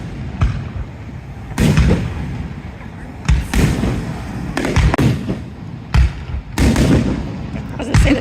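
Fireworks burst in loud, booming blasts, roughly six explosions spaced a second or two apart, each trailing into crackle, with a faint background murmur between them.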